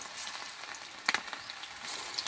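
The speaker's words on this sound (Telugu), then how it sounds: "నూనె వేడెక్కింది చూడండి, వేస్తున్నాను ఒక్కొక్క ముక్క" Pieces of chicken 65 frying in hot oil give a steady close sizzle, with a brief crackling pop as a piece goes in.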